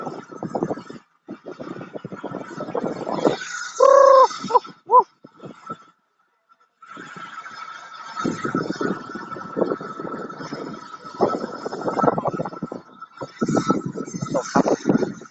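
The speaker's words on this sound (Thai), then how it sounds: "ลมแรงครับผม" Strong gusty wind during a rainstorm buffets the microphone in rough, fluctuating bursts, loud and close, with a brief lull in the middle and a short squeaky tone among the gusts.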